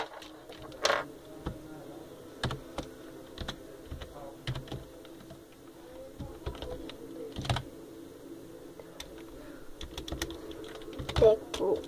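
Computer keyboard typing while installing Windows 7 in VirtualBox, a steady run of close, crisp key clicks with irregular rhythm and a few louder taps, no voices.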